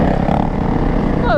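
A supermoto motorcycle rides on an abandoned airport runway, its engine a steady buzzing drone close by with a brief rising whine near the end.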